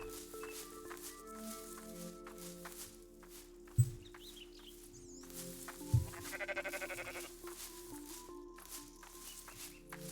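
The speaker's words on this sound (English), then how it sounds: "uh-oh, poor sheep." A sheep bleats faintly in the Rising World video game, heard among game ambience with a couple of soft thumps and rustling. No talking.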